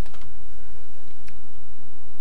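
Faint, sparse typewriter-like clicks sound over a hiss of background noise during play of the game Dungeon Master, with a few scattered ticks and no voices.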